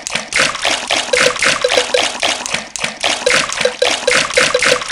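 Swimming-race splashes in a Peppa Pig holiday video game: continuous close watery splashing and trickling with rhythmic strokes and small chirpy game tones on top, steady and loud throughout.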